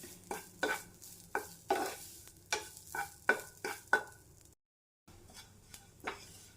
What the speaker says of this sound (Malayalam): നല്ല ബ്രൗൺ നിറമാകുന്നത് വരെ ഇളക്കി കൊടുത്ത് വറുത്തെടുക്കണം